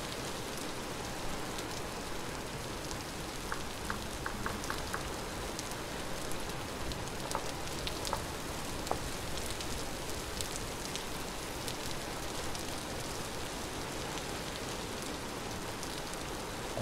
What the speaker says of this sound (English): How's that with the rain?